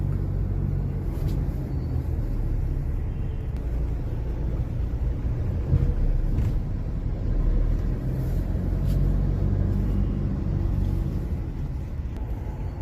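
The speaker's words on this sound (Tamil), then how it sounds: "இதான் மும்பை டிராஃபிக்" Slow, congested Mumbai road traffic near the airport, heard as a steady, loud low rumble of car and bus engines idling and creeping along, with faint distant horn-like blips and no talk.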